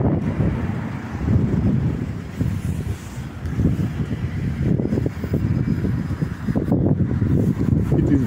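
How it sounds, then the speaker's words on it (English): Strong wind buffets the microphone on an outdoor walk along Biscot Road in Luton, UK, a loud, continuous low rumble with gusty surges and no talking. "very windy out here, my viewers."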